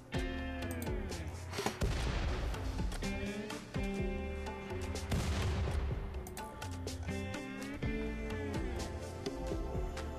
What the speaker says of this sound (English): it was the mortar shell and the gunshot